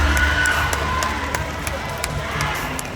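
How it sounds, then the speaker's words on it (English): Pageant audience at a Miss International Queen Philippines Luzon question-and-answer round cheering and clapping, a steady dense roar of crowd noise with scattered whoops and claps lasting the whole stretch. "A round of applause."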